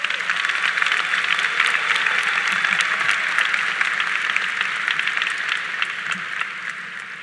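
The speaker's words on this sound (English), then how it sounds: "Let's give them a big round of applause." A large Norwalk High School graduation crowd applauds the class of 2025 with loud, dense, continuous clapping that fades gradually near the end.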